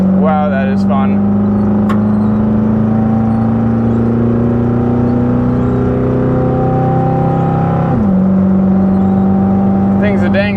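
A car with a Quadrajet carburetor on a one-inch spacer revs hard under acceleration. The loud, steady engine roar climbs in pitch for several seconds, then drops briefly at a gear change before pulling again.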